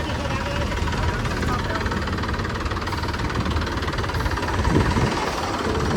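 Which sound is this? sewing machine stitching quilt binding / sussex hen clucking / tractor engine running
tractor engine running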